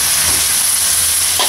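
String beans frying in a pan for adobong sitaw, with vinegar just added, give a steady, loud broadband sizzle that holds evenly throughout with no talking.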